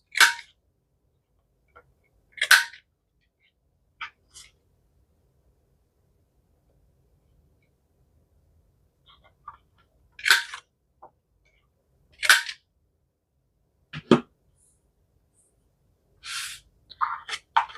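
A corner-rounding punch bites through the bottom corners of paper pockets for a multiple fold-out craft folder, giving crisp, sharp snaps spaced several seconds apart with quiet gaps between.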